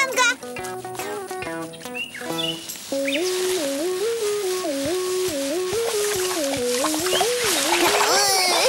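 A hose sprays water in a steady hiss that starts partway through, under bouncy music with a few brief voices.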